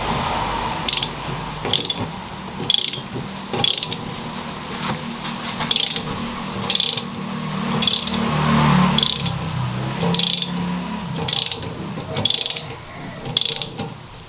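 Jigsaw cutting a square opening in a metal control cabinet, a continuous buzzing saw drone broken by regular sharp clattering bursts roughly every second, close and fairly loud with no talk.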